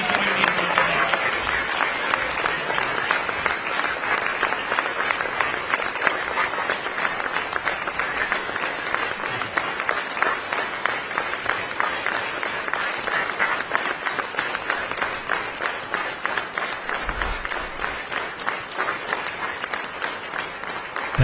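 Sustained audience applause welcoming India's Prime Minister Modi at a Silicon Valley event, a steady, dense wash of clapping from a large crowd lasting throughout, with faint voices underneath.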